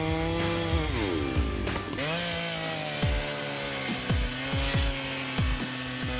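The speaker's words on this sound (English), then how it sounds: "395 XP is a true icon in the world of chainsaws" A Husqvarna 395 XP chainsaw with a 94cc engine cuts wood, its loud, close engine whine holding steady under load, then revving in a series of sharp rises and drops as the cut finishes.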